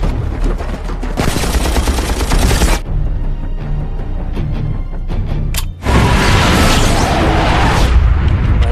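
Heavy gunfire in an action film scene at a rebel base, X-Men Origins: Wolverine, as a loud sustained barrage of shots and booms with sharp bursts, a brief lull, then another intense volley.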